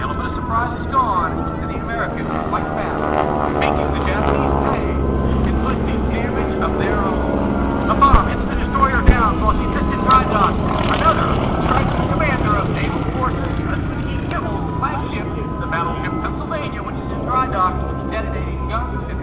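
Vintage propeller warplanes roar overhead at an air show reenactment of the Japanese attack on Pearl Harbor, a sustained droning engine rumble that swells and fades, with loudspeaker narration running over it.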